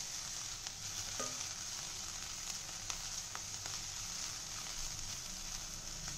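Spices and vegetables roasting in a pan for a vegetable paneer paratha filling, a soft continuous sizzle with occasional scrapes and taps of a spoon stirring, heard quietly and without talk.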